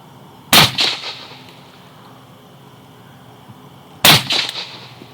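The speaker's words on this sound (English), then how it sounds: "my first shot was high and my second 2 were low, but they're all still in the X" Two sharp gunshots, a few seconds apart, ring out at a nighttime night vision shooting class, each followed by a brief echoing tail over quiet outdoor background.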